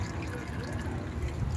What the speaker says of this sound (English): Let's just let it drip out.